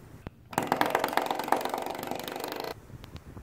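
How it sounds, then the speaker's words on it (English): A harsh, buzzing rattle from a faulty subwoofer in a 2010 Audi A4 Quattro starts abruptly and holds steady for about two seconds, then cuts off, leaving a low hum underneath. "the subwoofer sounds like this"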